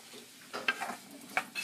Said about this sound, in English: Here I'm going to add this chopped onion.